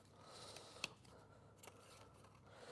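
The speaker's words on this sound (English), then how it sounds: "Got the biggest pair of scissors in the world." Large scissors cutting through paper or card at a crafting bench: a soft, faint snip with one sharp click near the middle, then a quieter second cut against a low, steady background hum.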